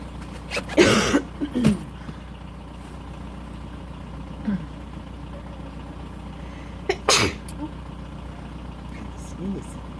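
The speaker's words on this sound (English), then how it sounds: "Sneeze." Two sharp sneezes burst out near the start and again later over a steady idling engine rumble inside a vehicle, with faint murmurs between them.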